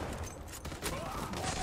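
Gunfire rattles in a short burst of rapid shots in the online shooter Zula, fairly loud and dense, with no talk over it.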